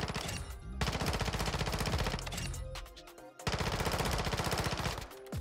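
Rapid SMG bursts in Warzone, a long continuous stream of close, loud automatic fire, a brief pause, then another sustained burst.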